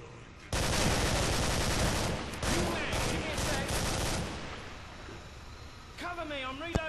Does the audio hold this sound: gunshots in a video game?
yes